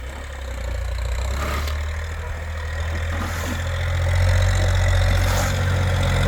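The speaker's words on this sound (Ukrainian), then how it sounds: "Я вийшов на вулицю, трактор їде задом" A small Chinese mini tractor engine, rigged as a homemade snow bulldozer, idles and chugs steadily close by while reversing, its low rumble swelling slightly toward the end as the machine moves.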